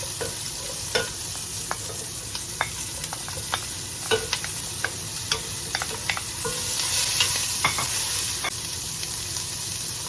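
Chopped onions sizzle steadily in a pot just used for searing beef ribs, a constant close frying hiss broken by frequent sharp clicks and scrapes of a stirring utensil.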